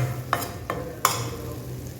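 Masala sizzles in oil in a pan for a broad-bean (avarakkai) poriyal made without onion: a soft, even frying hiss with three sharp spatula knocks against the pan.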